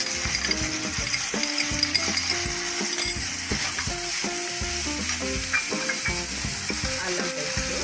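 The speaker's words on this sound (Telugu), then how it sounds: "అల్లం వెల్లుల్లి పేస్ట్ వేగాక పచ్చివాసన పోయే వరకు వేసుకోవాలి" Ginger garlic paste frying with onions and mint in a pan for a dhaba-style egg biryani: a steady close sizzle with stirring scrapes and light utensil clinks, no voices.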